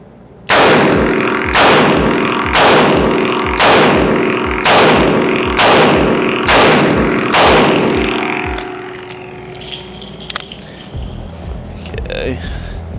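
Eight loud, sharp gunshots ring out at a steady pace during target shooting practice at 10 yards, each followed by a short echo, then quieter handling noise.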